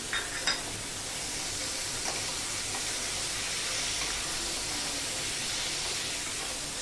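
Green peas tipped into onions already frying in a pan for vangyache bharit, a broad steady sizzle and hiss with a couple of sharp clinks near the start, loud and close with no talking.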